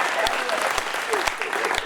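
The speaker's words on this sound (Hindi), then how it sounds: "भाई जोरदार ताली, एक बार जोरदार ताली" Loud applause from an audience at a Hindi poetry gathering (kavi sammelan) in Etmadpur, dense clapping with a few sharper claps standing out, and a voice speaking over it.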